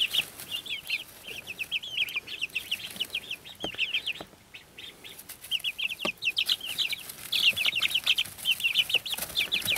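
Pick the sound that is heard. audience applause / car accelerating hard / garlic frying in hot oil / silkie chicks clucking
silkie chicks clucking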